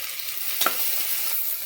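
Tomato rice masala with coriander and mint sautéing in a pan, giving a steady, close sizzle with a single brief stir or scrape partway through.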